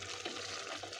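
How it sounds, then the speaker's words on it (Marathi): Hot water being poured into a pot of mutton curry during cooking, a steady broadband watery pour that runs for about a second with no voices. "गरम पाणी करायला ठेवलं होतं, त्याच्यात टाकून घ्यायचं"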